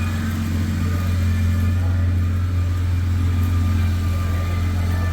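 A Toyota Land Cruiser engine with a knock sensor fault runs close by, giving a loud, steady low hum with a strong drone and slight rises in pitch as it is revved.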